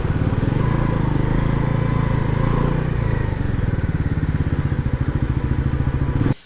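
A Bajaj Pulsar NS 400Z motorcycle engine runs while riding, giving a loud, steady, close-up thrumming with even rapid pulses that hold throughout before cutting off abruptly at the end.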